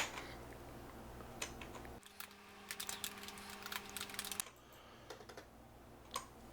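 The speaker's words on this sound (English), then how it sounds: "I'm just simply going to type in the title for my project." Computer keyboard typing while a project title is entered in an editing app, with a dense burst of rapid clicking keystrokes in the middle and a few scattered taps before and after, close and fairly quiet.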